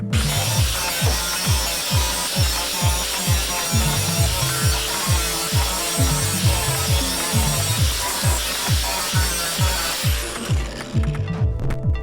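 An angle grinder works down a rough weld patch on a Triumph Spitfire during restoration: a steady, loud, hissing grind with a rapid, regular chattering pulse as the disc bites, easing off near the end.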